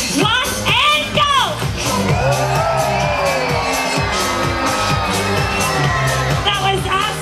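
A deck party crowd on a Caribbean pirate-themed cruise lets out a big burst of screams and cheers. The shouting and whoops swell loud and sustained over thumping party music.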